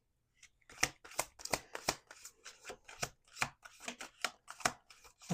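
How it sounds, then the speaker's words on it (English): Tarot cards shuffled by hand on a table, a quick run of crisp riffling snaps and slaps, close and fairly loud, repeating in bursts with short pauses between. "We're going to do 2 more shuffles."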